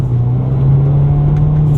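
A 2016 Subaru WRX STI exhaust holding a steady, loud, low droning note at close range, with no talking over it.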